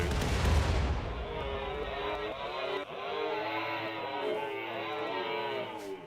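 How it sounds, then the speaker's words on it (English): Mortar fire in the colony-sim game Rimworld: a loud, dense burst of booming launches up front, then a continuing rumble of impacts and crackling gunfire with chirping tones layered over it. "Maybe I fire my mortars once here."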